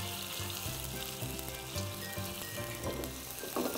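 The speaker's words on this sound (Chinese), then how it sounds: "煎的时候呢慢慢煎，好，消消火慢慢煎" Tofu slices pan-fry over low heat, giving off a steady, close crackling sizzle with a few louder spits toward the end and no talk.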